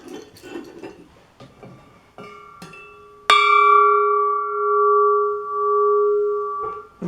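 A freshly hung bell, held snug and struck once after some handling knocks, rings out loud and close with a sustained, shimmering tone that slowly pulses as it decays over several seconds.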